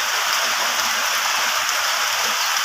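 Steady rain pours down outdoors, an even, dense hiss of drops falling on surfaces with no break, fairly loud and close, with no voices over it.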